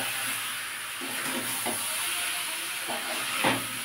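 Raw Fazli mango simmers with sugar in a pan, a steady hiss and sizzle that holds even throughout, with a few faint bubbling pops near the end.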